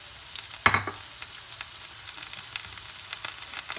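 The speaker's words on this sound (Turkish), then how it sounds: "Pırasalarım kavrulmaya başladı." Leeks sauté in a pan for a Turkish olive-oil leek dish, a soft steady sizzle with one sharp utensil clatter near the start, faint and close with no voices.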